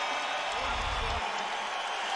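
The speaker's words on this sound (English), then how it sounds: "Come up with that block shot as you hear the applause here in Utah." Arena crowd at a Portland Trail Blazers vs Utah Jazz NBA game in Utah applauding a blocked shot, a broad distant roar of clapping and cheering beneath a broadcaster's voice, with a low rumble swelling briefly midway.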